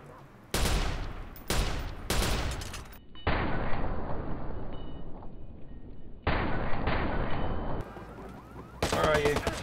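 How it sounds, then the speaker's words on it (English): Heavy incoming gunfire aimed at the player in Watch Dogs, arriving in several loud, sharp bursts separated by brief gaps, some long sustained volleys, close and dense, with no talk over them. "Where am I being shot from? Oh, everywhere."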